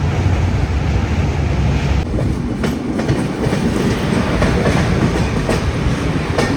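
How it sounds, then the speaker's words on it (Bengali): Padatik Express 12377 passenger train pulling into a small halt, a loud, steady rumble of wheels and carriages with faint rhythmic clickety-clack throughout, close and continuous. "ফাইনালি আমাদের ট্রেন এসে পৌঁছালো তার যাত্রাপথের"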